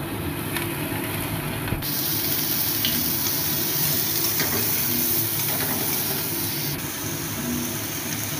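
Chili powder, turmeric and onion paste sizzle in hot oil in a pan, a steady close hissing crackle with occasional stirring scrapes and no talk.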